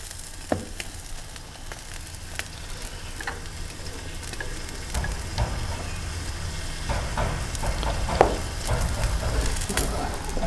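Two sticks of butter sizzle and fry on a griddle for crab cheeseburgers, a steady close crackle with occasional stirring and scraping clinks, no voices.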